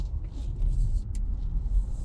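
A car passes at moderate distance on a road, a steady low rumble of tyres and engine that swells gently and fades, with no talk over it.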